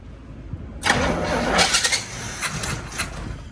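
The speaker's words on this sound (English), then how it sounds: "Let's see if it will crank and go, bro." A Chevy 400 V8 in a C30 dually truck cranks and catches after a quiet moment, then roars loudly and runs up unevenly with sputtering revs close by.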